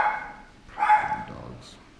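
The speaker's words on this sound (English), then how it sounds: "I'm going to listen to my dogs bark" Several dogs bark from a short distance, with two clear bursts of barking separated by a pause and a small yip near the end, standing out against a quiet indoor background.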